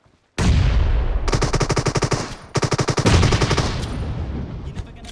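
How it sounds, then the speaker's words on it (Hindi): Rapid shotgun and automatic gunfire in the PUBG Mobile video game, loud bursts of closely spaced shots in two dense volleys with brief pauses, fading into scattered distant shots. "शॉटगन निकाल।"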